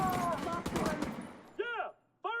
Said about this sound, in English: Firing on them now!